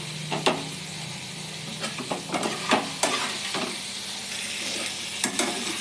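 Tomato-based masala sizzles and fries in a pan, with a steady crackle broken by repeated scraping stir strokes, close and moderately loud with no voices.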